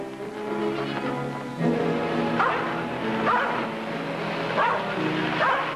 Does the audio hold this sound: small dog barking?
yes